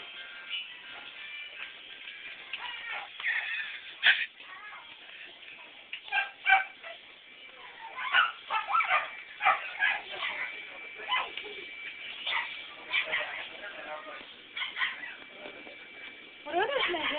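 A dog whimpers and yips in short, high, repeated cries, fairly faint and scattered throughout.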